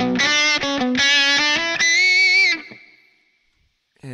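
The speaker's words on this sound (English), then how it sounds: "Let's mess some distortion pedals now. So here's the tube driver." Electric guitar played through the tube driver distortion model of a Line 6 Pod HD500 multi-effects unit, loud, saturated chords and notes for about two and a half seconds, then ringing out and fading to silence before a new hit.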